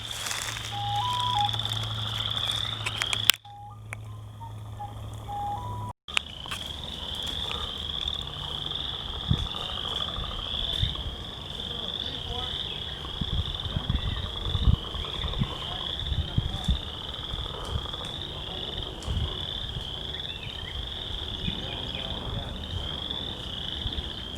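Frogs croak steadily in the Thundering Waters wetland, a dense chorus of repeated calls with a high insect-like trill running throughout, broken by two brief dropouts near the start, and someone talks faintly underneath.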